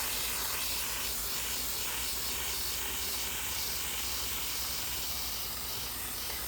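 Quick-drying leather finish sprays from an aerosol can in a continuous broad hiss that holds steady close by with no talking over it.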